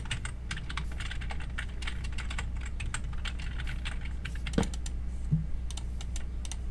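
Someone types on a computer keyboard, a fast uneven run of close, crisp key clicks over a low steady hum, with a couple of heavier thumps near the end.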